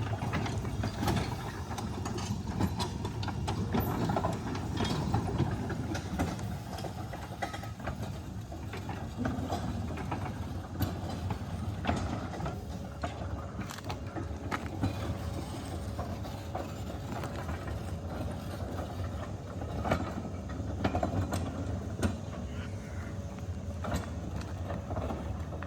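A remote-controlled rail vehicle pulls out of a siding with a continuous rumble, clanking and ratcheting mechanical noise, and some metallic squeals, loud and close throughout.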